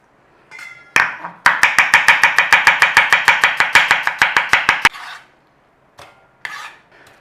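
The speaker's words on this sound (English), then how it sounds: "We want thin sliced cabbage, okay?" Knife slicing cabbage thinly on a chopping board, a fast steady run of about twenty crisp, close chops, then a pause and a few scattered cuts.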